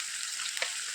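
Onion and ginger-garlic paste with turmeric fry in a pan, giving a soft, even sizzling hiss for a brief moment, with no talking.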